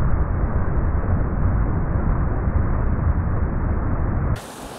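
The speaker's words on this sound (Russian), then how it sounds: "А вот она речка." A mountain river rushes through Ordesa Valley in the Spanish Pyrenees, a steady loud roar of water that fills the whole clip, then drops off abruptly just before the end.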